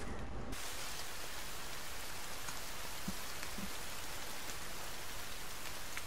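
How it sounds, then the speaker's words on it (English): Steady rain in the game The Forest hisses down, a constant soft wash of falling drops with a few louder pattering hits. "And then I heard the raining"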